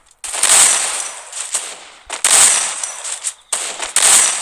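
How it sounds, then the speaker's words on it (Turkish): Gunfire in the Free Fire mobile video game comes in long continuous bursts with no pauses for reloading, loud and close, with three sustained volleys separated by brief gaps. "Yani şarjör değiştirme olayı yok bu şekilde yani tek tek sıkıp bırakabiliyorsunuz."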